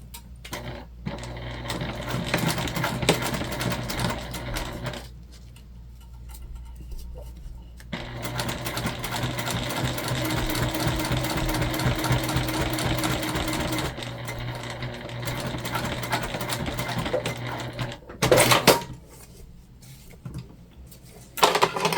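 A sewing machine stitches a waist pack in several long runs of rapid needle chatter, close and loud, broken by short quiet pauses and a few handling clicks.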